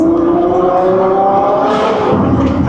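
A car engine held in second gear in Saturday traffic, its sound reflecting off roadside barriers: a loud, steady, close drone with a low hum that swells slightly midway, with no voices.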